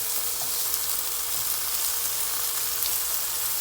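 A slice of Spam sizzles in a frying pan, a dense, steady close-up crackle of hot fat with occasional small pops throughout.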